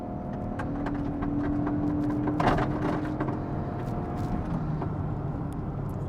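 A 2024 Lexus ES 300h hybrid sedan revs in sport mode with the brake held, giving a steady low engine drone that climbs briefly and then settles, plus faint clicks and a hum inside the cabin.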